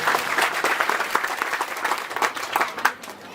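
A crowd at a Hindi-language political gathering in the Hawa Mahal assembly constituency applauds to welcome visiting guests, giving a steady, dense patter of many hands clapping at close range for a few seconds.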